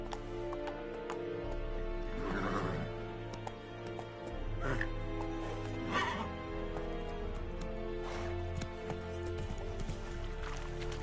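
Roach, the horse in The Witcher III: Wild Hunt, gallops with rhythmic clip-clopping hooves and lets out several loud whinnies and neighs over a low continuous background, with a voice speaking briefly.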